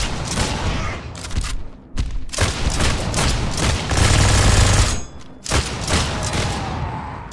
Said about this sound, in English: being able to hear the spin up of his minigun